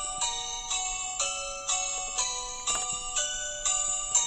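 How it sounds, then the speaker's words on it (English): A mobile phone ringtone rings nearby, a bright repeating melodic phrase cycling about every half second, steady and clear with no talk over it. "Everybody, give me one moment as I answer my phone. It's ringing during the video."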